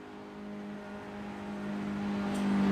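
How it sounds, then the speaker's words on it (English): Mazda Miata race car in the iRacing game at Silverstone, its engine holding a steady droning tone that swells gradually louder as it heads through Club onto the Hamilton straight. "Mazda's going to come out through club, down the Hamilton straight."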